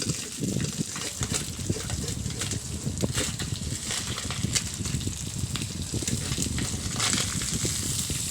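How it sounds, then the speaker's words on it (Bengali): Small chuno fish coated in salt and turmeric frying in a hot wok, a loud, rough, bubbling sizzle with crackles throughout, close up, with no speech. "তার মধ্যে নুন হলুদ মাখিয়ে চুনো মাছগুলো ভেজে নিচ্ছি"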